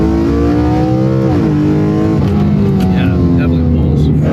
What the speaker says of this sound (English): Nothing better than a high-strung, high-revving, small displacement V8.